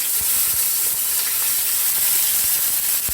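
Chopped tomatoes sizzling with softened onions in a hot kadai for restaurant-style kadai paneer, a loud, steady hissing fry that carries on without a break.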